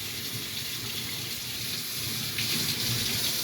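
Running water rinses a corny keg's dip tube and O-ring, a steady broadband splash and gush with no pause, growing slightly louder and fuller near the end.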